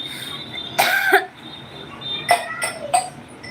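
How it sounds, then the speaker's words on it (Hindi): Two bursts of coughing from one person, the first a longer harsh fit and the second a pair of shorter coughs a moment later, close to the microphone over a quiet room with faint background hum. "मुझे खांसी आ भी रही है"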